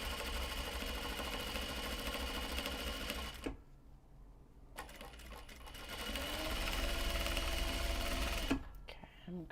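A sewing machine stitches the long handle of a knot bag in steady whirring runs, pausing briefly before starting again, with some faint talk in the background.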